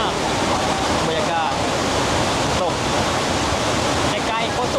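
Mae Ya waterfall roars as a loud, dense, steady rush of falling water close by, filling the whole few seconds without break.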